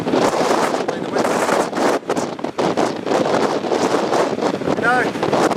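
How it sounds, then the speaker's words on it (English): Wind buffeting a microphone outdoors during a Steadicam Volt stabilizer test, a loud continuous rumbling rush with gusty surges and brief dips, with a voice talking underneath. "The wind."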